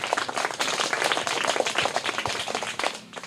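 Dense clapping from a quiz audience rewarding a correct answer, steady and moderately loud across the whole stretch with no voices over it.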